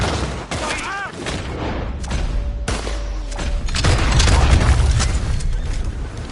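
Gunshots ring out in the game Red Dead Redemption II amid a firefight, sharp cracks scattered over a rumbling background, with someone shouting over the shooting.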